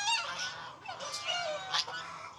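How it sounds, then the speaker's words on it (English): Several geese honk and squawk in a noisy, overlapping flurry in a garden in Vietnam, fairly close, with raised calls rising and falling over a couple of seconds. "Those geese might not like me back here."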